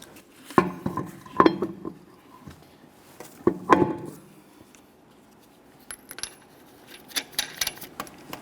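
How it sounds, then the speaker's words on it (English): Metallic clinks and clatter of a 21mm lug nut being worked off the rear wheel hub of a 2011-2020 Toyota Sienna during a brake job, a few sharp bursts with quiet gaps between. "Let's get this lug nut off of here."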